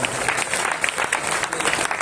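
Audience clapping at a Hindi poetry gathering, the Akhil Bharatiya Virat Kavi Sammelan in Kashipur, a steady wash of many hands applauding with faint crowd murmur underneath.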